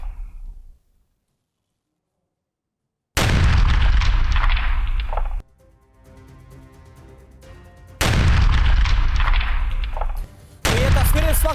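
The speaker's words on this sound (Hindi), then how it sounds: "रूसी टैंक में जोरदार धमाका हुआ है" A Russian tank explodes in a Ukrainian attack in the Kursk region: heavy, booming blasts in separate loud bursts, with quieter stretches and voices between them.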